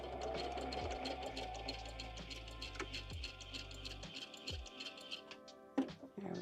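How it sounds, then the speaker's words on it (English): A sewing machine back stitches a boho junk journal, giving a close rapid mechanical whir of needle strokes for about four seconds, then a few separate clicks and taps as it stops, with no talking. "I'm going to back stitch this."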